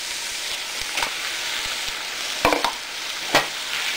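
Chopped onion sizzles steadily in a hot frying mixture for loaded nachos, a constant close hiss broken by a few scrapes and knocks of a stirring utensil.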